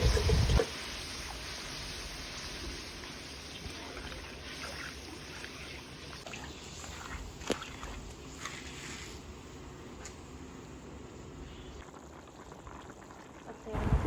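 A pot of beef stew simmers at a low, steady bubbling boil, a soft continuous burble with a few small knocks partway through.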